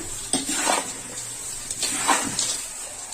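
Powdered sugar being stirred into cooled poha chivda, with a few soft scraping, rustling strokes of a spoon through the dry flakes in a pot, quiet and close.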